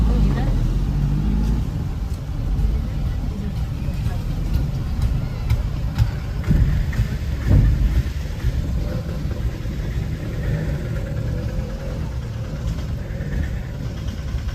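Road traffic in steady rain near Madhda, with car engines idling and vehicles passing close by in a continuous, dense wash of noise, while voices talk over it.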